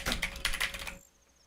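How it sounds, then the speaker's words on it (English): A loud computer keyboard clacks through a quick burst of rapid keystrokes lasting about a second, close and crisp, then falls quiet. "See, this is an actual loud keyboard."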